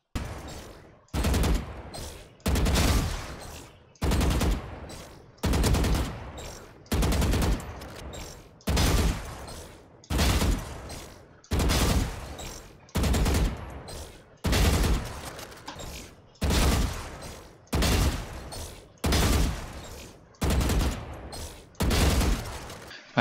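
Regular bursts of gunfire from the Valorant shooting range in a video game, about sixteen evenly spaced volleys of rapid shots separated by brief pauses, loud and close with no talking.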